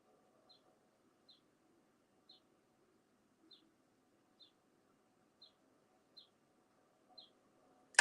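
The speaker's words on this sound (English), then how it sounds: "You hear the birds?" Faint, high chirps repeat at roughly one-second intervals against near silence, followed by a sudden sharp thump at the end.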